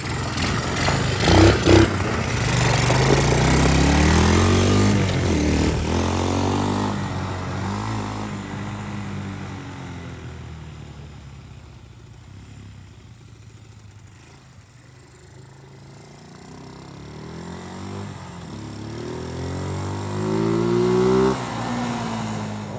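Yamaha 225DX Tri-Moto three-wheeler engine with a Wiseco piston runs close by. It revs loudly at first, drops to a low idle in the middle, then revs up again near the end.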